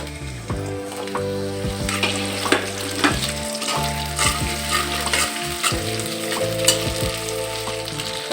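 Onions and bay leaves frying in a cup of oil in a wok, a loud close sizzle with repeated clinks and scrapes of stirring throughout, no voices.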